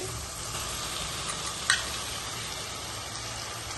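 Small dried fish simmering and sizzling in a pan of raw tamarind curry, a steady close frying hiss throughout with one brief clink of a utensil midway.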